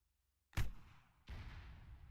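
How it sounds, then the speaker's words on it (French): A HEAT tank shell explodes in the video game Arma 3: a sharp loud blast after silence, a decaying rumble, then a second thud rolling into a lingering low roar. "L'explosion est bien plus spectaculaire, bien sûr."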